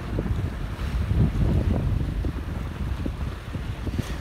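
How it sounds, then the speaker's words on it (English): Gusting wind buffets the microphone aboard a Catalina 22 sailboat at sea, with low rumbling bursts that swell and ease alongside faint water wash against the hull. "The wind's picked up a bit."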